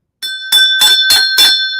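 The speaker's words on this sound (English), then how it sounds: "see how many rings I had to give the bell on that?" A bell struck five times in quick, even succession, each ring bright and sustained with a clear metallic tone, loud and alone.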